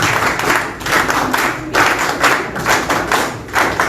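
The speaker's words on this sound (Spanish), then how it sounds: "Lo recibimos con fuertes palmas, por favor, a nuestro querido compañero." A crowd at a Peruvian infrastructure talk claps in loud, rhythmic bursts, the applause pulsing in unison roughly every half second like a coordinated round of palms.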